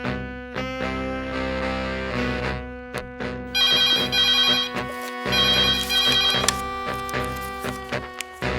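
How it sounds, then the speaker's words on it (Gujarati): A telephone rings with a loud, repeating electronic ringtone melody in bursts separated by short gaps, alone and close, in a scene from a Gujarati drama film. "એ જાડેજા ફોન લગાડે ને."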